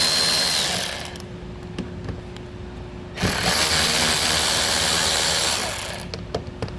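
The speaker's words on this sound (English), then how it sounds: "for now, we'll go ahead and get our 7mm screws off." A power tool spins out 7mm screws from the air dam of a 2022 Ford Maverick in two loud, sustained whirring bursts separated by a brief quieter pause, with light clicks after.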